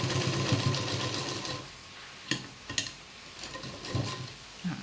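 A sewing machine stitching a V-shape blouse hums steadily up close, then stops, leaving a few sharp clicks and handling knocks before faint motor runs resume.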